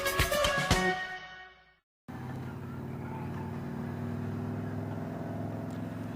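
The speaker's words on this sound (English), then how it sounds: "out on the Goldwing, and I am riding with the White Knight" A 2017 Honda Goldwing motorcycle riding on the road, its steady engine drone and road rumble continuous and fairly loud after a short, different opening sound and a brief silence.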